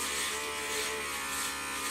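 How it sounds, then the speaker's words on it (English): A beard trimmer buzzes steadily and close while it trims sideburns, a continuous electric hum with a slight wavering as the blades move through hair. "I use the beard trimmer here"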